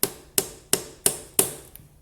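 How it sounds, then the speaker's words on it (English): Five sharp, evenly spaced hammer taps ring out close by, striking a socket to drive an oil seal into its bore on an Aprilia Tuono motorcycle during repair, followed by a faint sixth tap, with no talking. "tap the seal into place."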